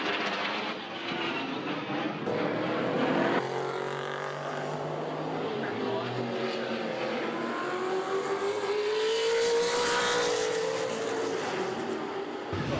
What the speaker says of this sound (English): this was followed by a spectacular RAAF Hornet fly past